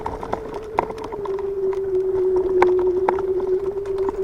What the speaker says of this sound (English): You can ride it in the grass, because that's what I'm doing right now.